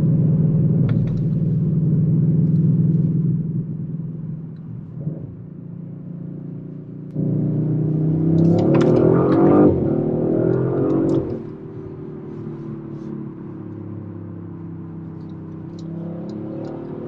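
A 2022 Audi RS5 with a 450 hp engine rumbles at a deep idle, then revs up into a louder, rising exhaust roar for several seconds before settling back to a lower steady hum.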